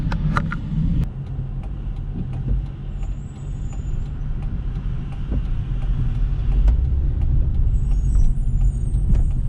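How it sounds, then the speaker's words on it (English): A bus brakes and turns in street traffic in Raleigh, with a steady close engine rumble under a continuous wash of passing traffic and a brief air-brake hiss near the start. "That person stopped for the bus."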